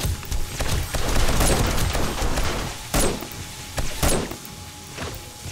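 Rapid gunfire in the video game 7 Days to Die during a nighttime horde, a dense continuous fusillade with sharper louder shots standing out, close and sustained throughout.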